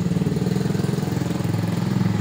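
A motorcycle engine idles close by in a steady, even rumble with a fast regular pulse, holding constant for the whole stretch with no voices.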